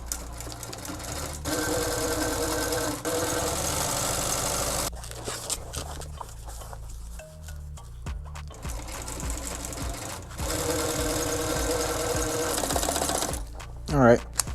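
A sewing machine top-stitches upholstery for old-school car bucket seats, running in steady mechanical bursts that stop and restart several times, fairly close, with brief pauses between runs.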